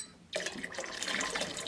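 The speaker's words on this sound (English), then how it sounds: "So there's the rest in the bottom of the container there I'm going to dump in." Leftover grape juice poured from the bottom of a Lehman's Mehu-Maija 11-quart steam juicer container, a sudden splashing pour that starts abruptly and runs steadily, close and fairly quiet, with no talking.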